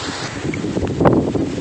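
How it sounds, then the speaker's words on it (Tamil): Strong wind with rain buffets the microphone in a steady roar on a rocky hilltop near a Durga temple, swelling in a brief gust near the end. "இப்போ சரியான மழை, காற்று அடிக்குது."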